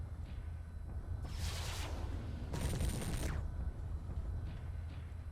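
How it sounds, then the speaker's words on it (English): Two loud energy bursts from a PPC weapon fired at a mech in MechWarrior 3, each a roughly one-second bright crackling blast over a steady low cockpit rumble, separated by about a second of engine hum. "Firing that PPC at me."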